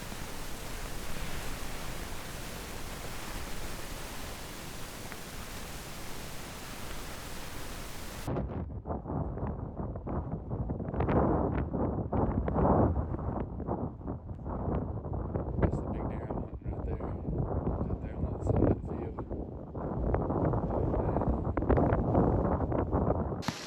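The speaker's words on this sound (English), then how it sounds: "Still got these crazy gale force winds." Gale-force wind buffets a microphone outdoors on open Kansas ground, a loud, constant rumbling roar with gusty surges and no talk.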